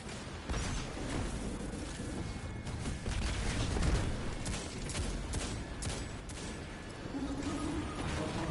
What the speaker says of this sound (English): I can't hear you over the sound of the explosions in the game.